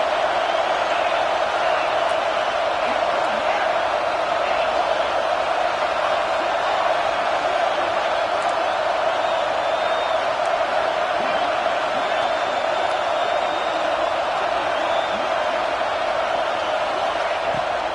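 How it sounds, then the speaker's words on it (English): Stadium crowd in the Madden 26 football game roars in a steady, dense wash of cheering that holds at an even, loud level throughout, with no pauses or distinct voices standing out. "This crowd, full throat, splitting the eardrums and letting them know it's going to be a long day."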